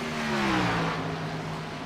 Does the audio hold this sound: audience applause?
no